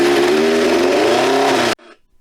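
A 1989 Kawasaki GPX750R motorcycle engine runs loud and close on an open road, a steady droning hum with a slight rise in pitch, cutting off abruptly near the end.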